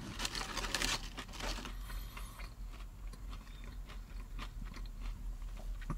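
Close crunching and chewing of curly fries served with Nashville hot chicken and onion rings, with crisp bites and wet mastication repeating steadily for several seconds and no talking.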